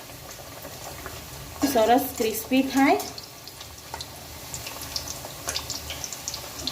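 Puris deep-frying in oil in a kadai over a medium gas flame give a steady, faint bubbling sizzle throughout, with someone briefly speaking over it partway through.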